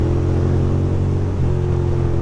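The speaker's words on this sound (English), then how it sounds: "It's a big truck." A big truck passing on a New York City street at evening, a steady heavy engine drone with low humming tones that shift slightly partway through, loud and close.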